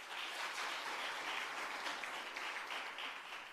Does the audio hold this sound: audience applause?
yes